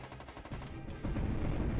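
Rapid bursts of gunfire from a helicopter's rotating gun turret in the PS2 shooter Borderline, a dense rattling barrage that swells louder in the second half with no talking.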